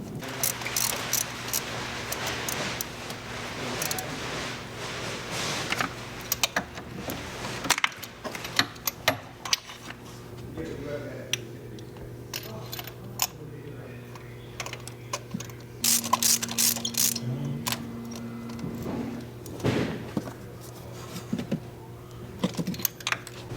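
A ratchet with an extension working spark plugs out of a BMW E90 engine, a series of close clicking ratchet strokes and metallic clatter in irregular bursts over a steady low hum.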